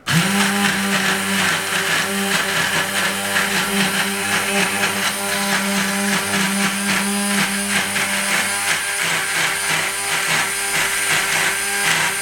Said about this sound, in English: So, I'm activating the blender.